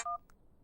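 A telephone goes off in a dubbed Hindi action film scene: one short, bright electronic tone burst followed by a faint blip, then quiet room noise.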